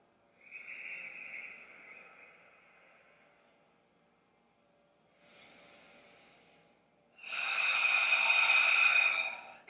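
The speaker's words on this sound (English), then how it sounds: "And just breathe here." Slow, deep breaths during a yoga pose, a long airy exhale, a pause, then a softer breath and a louder, forceful rushing exhale, close and unaccompanied by talk.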